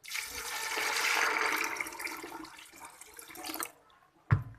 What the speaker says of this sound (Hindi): अब मैं इसमें पानी डाल दूंगी।